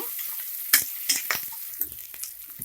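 Onion fries in oil in a pan while being stirred, a soft background sizzle broken by a few scraping, clicking stirs at an irregular pace, quiet and close.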